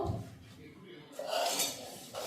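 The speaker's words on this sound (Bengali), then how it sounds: "এখন এদিকে কড়াই বসাইলাম" A wok is set down on a stove, a short metallic clunk and scrape of cookware, followed by a brighter rattle of metal pots near the end, with faint kitchen background.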